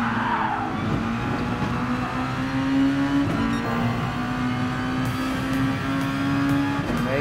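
Red Bull X2014 Junior race car in Gran Turismo Sport at the Nürburgring Grand Prix, its engine holding a loud, steady, high whine as it drives, with brief shifts in pitch partway through.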